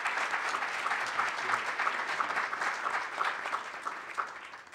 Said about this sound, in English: we all owe the Dean a round of applause for putting this all together.